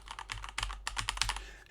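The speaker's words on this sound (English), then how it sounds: "if you're having it into this mode and you're pressing your keys, you're going to have the noise in the background" Keys clatter on a computer keyboard being typed on, picked up by a Smallrig Forevala U60 USB microphone; quick irregular clicks and taps in bursts, fairly close and clear over a low steady hum, with no talking.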